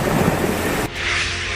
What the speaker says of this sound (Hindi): भीषण बारिश से बिगड़े हालात